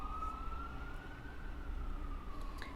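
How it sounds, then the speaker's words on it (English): An emergency vehicle siren sounds outside, holding a steady, slowly wavering wail through the whole stretch. It is moderately faint and distant over a low background rumble. "but then that siren came on"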